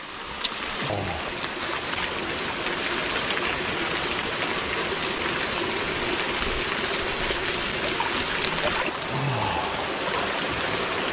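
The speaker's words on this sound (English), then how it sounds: "a little bit of that warm waterfall coming in" Warm waterfall pouring into a hot spring pool in remote coastal Australia, a steady close rush of flowing and splashing water that continues unbroken with no voices.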